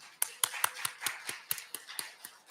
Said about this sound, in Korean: 우리 남성교회 분들한테 박수 한 번 하겠습니다.